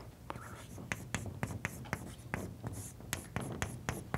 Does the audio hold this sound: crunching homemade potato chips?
no